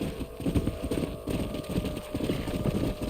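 Horses' hooves clip-clop in a rapid, uneven gallop rhythm in the Western video game Red Dead Redemption, moderately loud over a low rumbling background with no talking.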